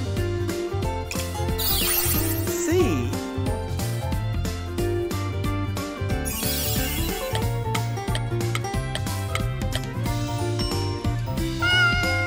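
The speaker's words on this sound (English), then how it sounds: "I am a cat." A cartoon cat meows over bright, busy children's alphabet music, short voiced calls sitting among steady beats and melody at a moderate level.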